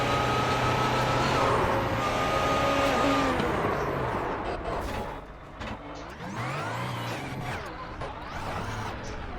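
An LMP1 race car onboard in the racing sim iRacing, its engine roaring loudly and steadily, then dropping and churning as the car rolls over, with scraping and tumbling noise near the end.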